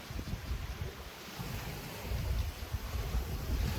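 Wind blows steadily across the shore of Lake Ontario at a state park, a continuous low rush with buffeting gusts against the microphone and no talk.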